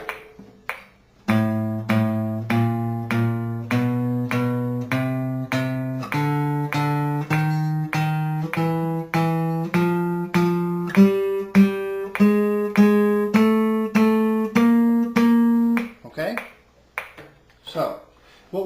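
A guitar picking exercise at 100 beats per minute, a steady run of evenly spaced plucked notes stepping upward in pitch, each note ringing briefly with clear attacks, then a few softer trailing sounds at the end.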